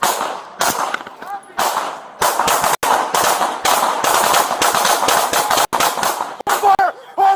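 Rapid bursts of gunfire crack loudly in repeated volleys, near and dense, with brief gaps between strings of shots and shouted voices mixed in.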